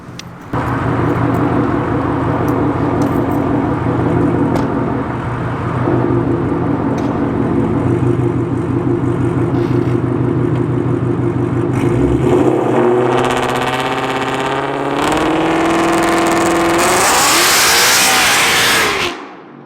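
A Ford Mustang GT drag launches from 2500 rpm on a poor surface and spins its tires. The engine holds a loud, steady rev, then surges and climbs sharply through rising pitch before cutting off, all close by.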